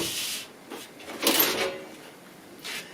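A computer case being pried open with a few close scraping, clicking rubs of panel and casing, spaced across a quiet moment with no talk.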